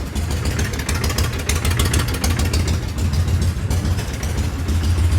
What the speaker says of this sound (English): The motor sounds healthy